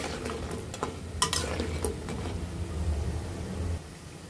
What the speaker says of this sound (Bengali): এভাবে উল্টে পাল্টে ব্রাউন কালার হওয়ার আগ পর্যন্ত ভেজে নিতে হবে